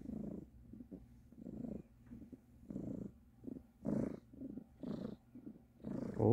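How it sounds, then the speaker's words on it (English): A tired young female cat purrs loudly and close, a steady rumbling purr rising and falling in rhythmic swells with each breath, alone without talk. "Oh, purring loudly."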